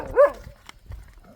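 A single dog bark sounds once near the start, fairly close and loud, followed by quieter scattered background noise, during a Kanwar Yatra pilgrimage walk.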